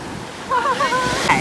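Ocean surf on a Hawaiian shore forms a steady broadband wash, with brief exclaiming voices rising above it partway through.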